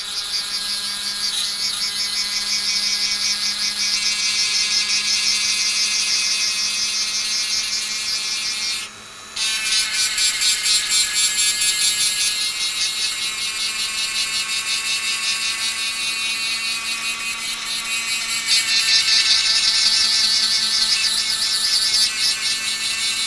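A Dremel 300 Series multi-tool fitted with a grinding stone grinds away the outer surface of a shell, a loud, steady high-pitched whine that runs continuously, broken by one brief dip near the middle before resuming.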